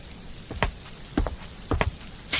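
Rain falls steadily as a soft, even hiss, with a few distinct drops or drips tapping close by at irregular intervals.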